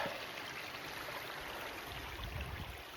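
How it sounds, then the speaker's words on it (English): A creek flows steadily along Worthington Road, a soft, even rush of water that stays faint and constant from start to finish, with no voices over it. "There's the creek"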